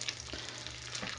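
Chorizo frying in a pan with its fat rendering out, a continuous crackling sizzle heard close and alone for a brief moment.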